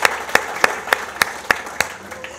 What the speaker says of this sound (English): can everybody give Kevin a huge round of applause for sharing his story